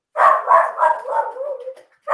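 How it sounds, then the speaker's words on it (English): A dog barks in a quick series of loud, close yips and barks that trail off into a whine, then one more bark breaks in at the end, with no talking. "I didn't hear the question because the dog was barking"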